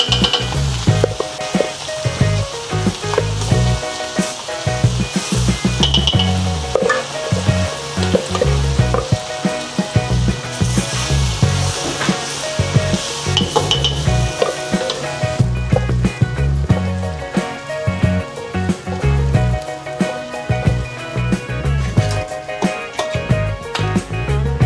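Ground chili and garlic hit hot cooking oil, giving a loud, steady sizzling fry that crackles and spits continuously with a bubbling hiss throughout, no voices over it.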